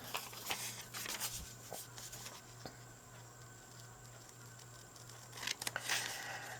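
Scissors cutting paper for a junk journal, several quiet, close snips scattered through the passage, with a cluster of sharper cuts near the end over a faint steady hum.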